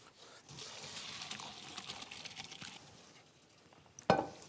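Hot boiled potatoes being drained in a strainer, water rushing and splashing steadily for a few seconds, then tapering off before one sharp knock near the end.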